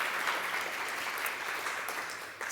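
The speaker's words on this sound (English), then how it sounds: "So can we please just give them a quick round of applause?" Quiet, distant applause at the 7in7 Year Two event thanks the organizers and volunteers, a soft continuous patter of many hands that tapers slightly near the end.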